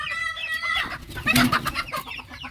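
Hens cluck close by on a small backyard poultry flock, with a run of short clucks and a louder squawking burst in the middle.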